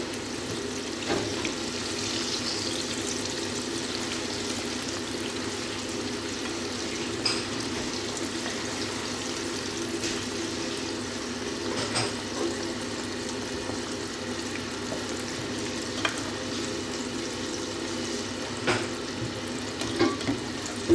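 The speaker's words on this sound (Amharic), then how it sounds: "የዶሮውን ውሃ ጨምራለሁ ማለት ነው።" Chicken broth poured into onions frying in oil for Arabian mandi gives a steady watery rush and hiss, a continuous moderate pour with a few small clinks and no talking.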